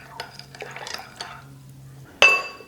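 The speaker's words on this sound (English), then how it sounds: "I'm gonna give this a stir and set it aside for about 10 minutes." Utensil stirring a yeast mixture for hard dough bread in a bowl, a quick run of light clinking and scraping, then a pause before one sharp ringing knock against the container.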